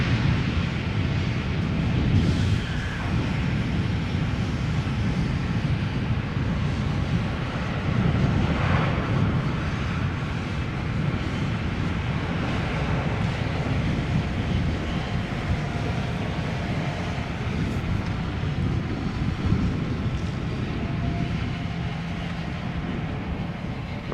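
A KLM Boeing 737-800 arriving from London Heathrow at Amsterdam Schiphol Airport, a steady loud jet roar that swells and passes close by, continuous for the whole stretch with no talk.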